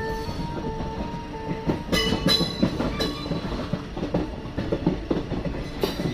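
A train running into Vijayawada junction, with steady rumbling wagon noise, rhythmic clickety-clack from the wheels and sharp clanks and squeals, loud and close throughout.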